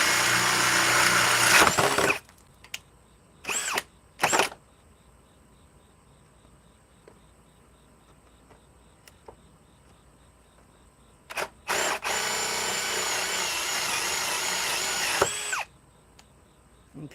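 A power drill whines loudly for about two seconds, then gives a few brief bursts before a longer run of several seconds. Quiet background with faint insect chirps fills the gaps between runs.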